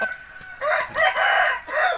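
A fighting rooster crows up close, a loud, hoarse call in a few rising and falling bursts, with a short quieter lead-in at the start.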